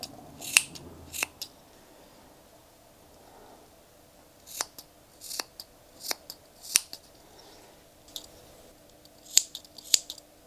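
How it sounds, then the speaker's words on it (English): Small snips give yarn pom-poms a trim, producing crisp, close snipping sounds in scattered single and paired cuts with quiet pauses between, alone without speech. "Snips are good for this because you can sort of go in and give it a haircut."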